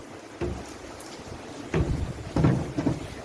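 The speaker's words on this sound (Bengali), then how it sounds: "প্রচণ্ড ঝাঁট আসছে জোর বৃষ্টি নেমে গেছে" Steady heavy rain hisses, with gusty louder surges of downpour and spatter coming and going.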